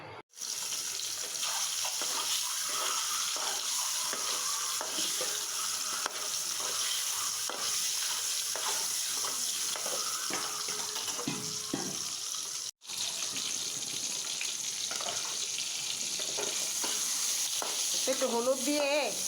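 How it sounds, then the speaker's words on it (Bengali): Vegetables fry in hot oil with turmeric. A steady, bright sizzle runs almost unbroken for the whole stretch, with faint stirring and a short pause partway through, and there is no talking. "একটু হলুদ দিয়ে ভেজে নেব।"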